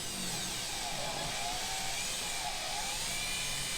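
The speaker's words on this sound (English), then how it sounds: "Drilling out the screws to the cover to the drawer that goes under the kitchen sink" A power drill whirs steadily as it drills out screws on the cover of a kitchen-sink drawer aboard a sailboat, a continuous high buzzing motor tone held close throughout with no speech.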